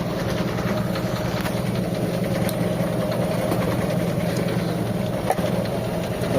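A Mitsubishi Lancer EL engine idles steadily after a cold start, a continuous low, even hum with a faint mechanical ticking, heard up close with no talking.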